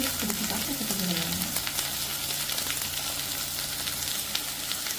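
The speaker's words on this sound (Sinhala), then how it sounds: "මේ විදිහට එළවලු ටික තෙම්පරා වෙද්දී මම මේකට ගම්මිරිස් ටිකක් එකතු කරගන්නවා." Vegetables stir-frying in a hot pan as black pepper goes in, a loud, steady close sizzle with constant crackle and scraping stir throughout, no voices.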